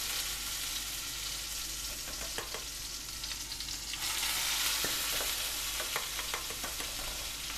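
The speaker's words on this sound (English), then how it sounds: "these little dumplings are ready to go into their brown butter bath" Homemade gnocchi dumplings sizzle in brown butter in a pan. A close, continuous frying hiss is dotted with sharp crackles and swells louder partway through. No voices.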